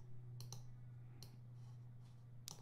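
Quiet computer mouse clicks at a desk while editing audio software, a few isolated sharp ticks spaced apart over a steady low hum, with no talking.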